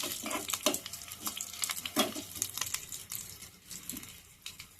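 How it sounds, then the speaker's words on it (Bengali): Curry leaves and green chilli sizzling in hot oil as a dhokla tempering, with a spoon stirring through them in the pan; soft crackling spits and scraping strokes come close and fairly quiet, with no talking. "এবার একটু নেড়ে চেড়ে একটু ভাজার মতো করে নিচ্ছি, কারণ কারি পাতার সেন্টটা একটা খুব সুন্দর উঠবে ভালো করে ভাজা হলে।"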